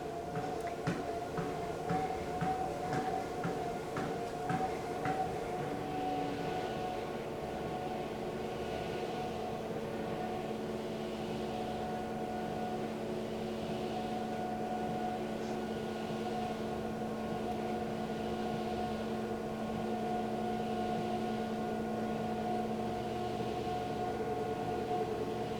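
A Life Fitness Run CX treadmill motor hums steadily while raising the incline to 15%, a low droning whine with layered tones that runs continuously and fairly quietly throughout, with faint rhythmic clicking early on.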